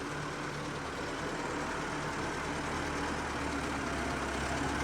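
A Hino Dutro 125 turbo concrete mixer truck with a 2.5-cubic-metre drum runs its engine in a constant, loud, broadband drone, holding steady with no distinct rev peaks.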